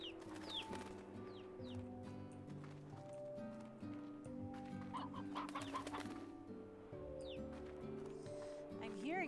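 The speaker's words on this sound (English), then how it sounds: "I'm hearing chickens. I'm not seeing chickens." In the video game Slime Rancher, chickens cluck and squawk in short bursts over a bed of tonal game music and chiming sounds, and a voice talks at times.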